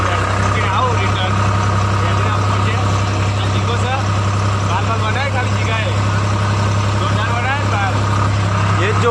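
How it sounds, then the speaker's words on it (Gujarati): A tractor engine runs steadily with a constant low drone and droning hum, close and loud throughout, while people talk over it. "અમે અમુક દૂર ઉપર ચડી જાય ટ્રેક્ટર લઈને"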